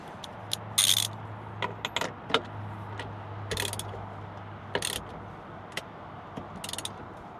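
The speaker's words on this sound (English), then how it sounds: "we also need to tighten down this nut, so I'll do that now while I'm here" Ratchet tightening a nut on a Mazda MX5 NB, close, with sparse irregular clicks and metallic clatter over a low steady hum, no talk.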